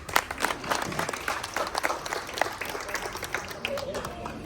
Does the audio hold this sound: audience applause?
yes